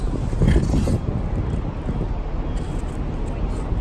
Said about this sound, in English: It's too windy out.